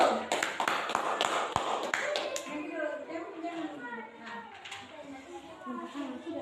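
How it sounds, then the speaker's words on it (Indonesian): Applause in a classroom for a student group: a burst of fast, loud clapping from many hands that thins out into scattered claps and faint voices of children and a teacher. "aplaus untuk kelompok 1"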